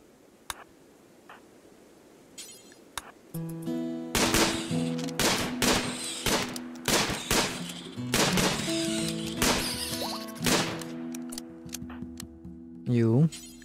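Repeated gunfire from colonists in the colony-building game RimWorld, a series of sharp shots cracking out in irregular bursts over a droning musical background, with a voice speaking in between.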